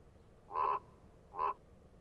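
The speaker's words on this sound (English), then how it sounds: "Oh, I hear some croaking." Two short croaking calls, evenly spaced and fairly distant, sound in the video game UnReal World over a quiet, wintry background.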